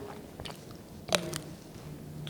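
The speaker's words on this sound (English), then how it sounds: "I'm purposely keeping it away because I'm chewing a little bit" Close, quiet chewing with a few sharp crunchy bites and soft squishy mouth sounds, sporadic against a low room hush.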